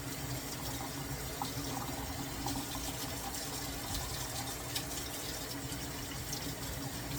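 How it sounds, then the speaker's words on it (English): Cold tap water runs steadily over an octopus being rinsed, making a continuous, even gush with no pauses. "some cold water to take some of the black and you could see under running water it comes off"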